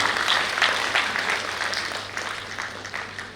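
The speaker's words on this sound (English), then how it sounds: "Can we have a round of applause for Aakash, please?" Audience applause at an event for the Aakash educational institute, a fairly faint, steady patter of clapping with scattered individual claps throughout, slightly thinning toward the end.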